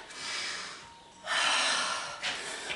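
Two long, forceful breaths blown out during a Nordic fitness Tabata stretching session, each a broad airy rush separated by a brief pause, close and fairly soft with no talking.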